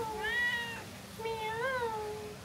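A cat meows twice, close and clear, with two drawn-out, wavering calls separated by a short pause over a faint background hum.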